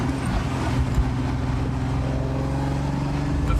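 A Ferrari Daytona Spider idles steadily as it warms up, a loud, close, continuous engine rumble with a deep even burble and no revving or talk.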